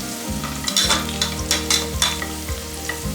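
Cashews and raisins frying with onions in hot oil for a pressure cooker egg biryani. The oil sizzles steadily while a spoon scrapes and stirs in a quick repeated rhythm, close and clear with no talk.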